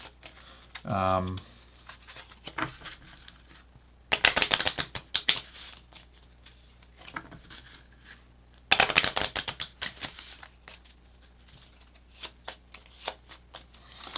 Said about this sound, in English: This all goes away, and I get to draw a whole hand of new cards.